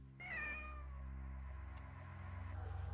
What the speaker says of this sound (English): Oh, it's the kitty cat.